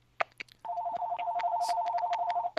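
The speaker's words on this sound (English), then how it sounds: "it's still trying to call her" An outgoing Skype call keeps ringing on a computer as a continuous two-tone electronic tone, fairly loud and close, dotted with a few short clicks and blips, and no one speaks.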